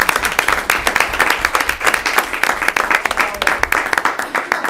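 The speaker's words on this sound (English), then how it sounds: "give them a big round of applause." Audience applause at a school committee meeting, dense steady clapping from a roomful of people that runs unbroken for the whole stretch, loud and close with individual hand claps standing out.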